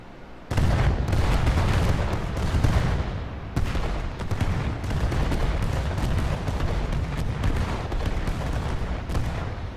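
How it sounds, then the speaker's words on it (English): Bombs released in a military video game detonate in a rapid barrage of sharp blasts and booms, overlapping bursts crowding each other for nearly ten seconds after a sudden onset. "Bombs away."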